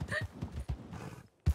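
A horse's hooves clip-clop a few times in quick, uneven beats in the El Rancho RP video game, close and fairly clear, with a voice talking over them.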